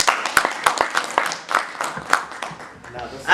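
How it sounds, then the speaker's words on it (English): A small audience claps in uneven bursts, individual hand claps distinct and close, the applause thinning toward the end. "So let us give a great round of applause."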